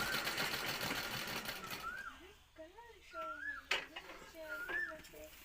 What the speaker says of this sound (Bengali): এই যে এটা হলো পিকো মেশিন।